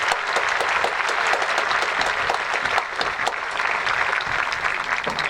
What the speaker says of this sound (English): A nice round of applause for those.